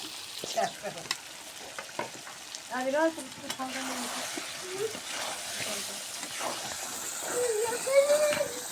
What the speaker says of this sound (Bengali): দেখুন সুন্দর করে কষে নিচ্ছি, এখন ঝোল দিয়ে দিব।